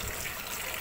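Water gushes from a kitchen tap while brain meat is washed, a brief close, steady splashing rush with no talk.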